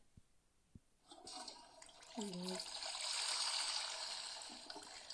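A toilet flushes in the Toca life-simulation game: a sudden broadband rush of water swells and holds steady for several seconds, with a brief voice-like tone partway through and a few faint clicks before it starts.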